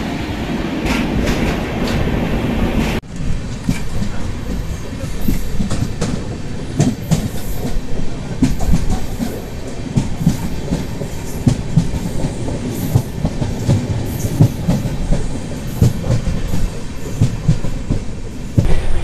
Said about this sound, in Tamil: பக்கத்து பிளாட்ஃபார்ம்ல ஒரு ட்ரெயின் வேற அரைவ் ஆகுது.